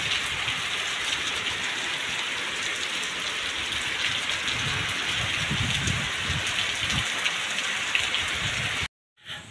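Heavy rain pours down steadily while work on a Ganesh idol is nearing completion, a dense, close, unbroken hiss of drops that cuts off abruptly near the end.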